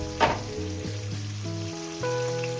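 Sliced onion and potato fry together in a pan for katla posto, a steady close-up sizzle and crackle with a brief stir near the start and faint tonal background sounds.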